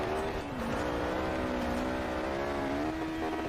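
A Peugeot 205 Forza Edition engine revs hard in the Forza Horizon 4 racing game, a loud, steady high-pitched drone with gear-like pitch sweeps and continuous throttle.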